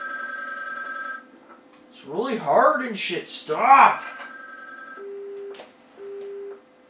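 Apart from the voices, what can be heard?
telephone ringing then hung up, from a video game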